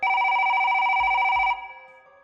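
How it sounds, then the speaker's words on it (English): A telephone rings in a Resident Evil 1 game scene, a rapid electronic warbling trill lasting about a second and a half before cutting off, with two soft low thumps near the end. "my phone's ringing"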